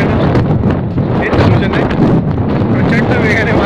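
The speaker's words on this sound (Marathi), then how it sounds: "प्रचंड वेगाने वारा येतो इथे" Strong gusting wind buffets the microphone high on Visapur Fort, a loud, continuous roar with rough surges throughout, and no other sound stands out.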